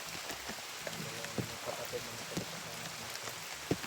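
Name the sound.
heavy rain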